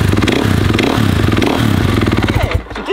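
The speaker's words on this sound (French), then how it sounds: "C'est une KTM 450 EXC. Cette moto c'est une tuerie" A KTM 450 EXC enduro motorcycle engine runs close and loud with a rapid, throbbing single-cylinder rumble and some mechanical clatter, easing off near the end.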